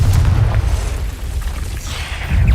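A Confringo blasting spell from a Harry Potter video game explodes with a loud, deep, rumbling boom that sustains throughout, swelling again at the end.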